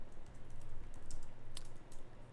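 Quick typing on a computer keyboard while adding a heading in a notes app, with soft, close key clicks tapping in an uneven run and a few sharper strokes, under a low background hum.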